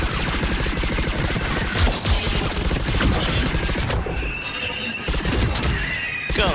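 Rapid turret gunfire in Mass Effect 3 multiplayer, a sustained rattling stream of shots with chaotic battle noise layered over it, loud and close.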